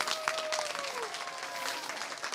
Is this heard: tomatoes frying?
no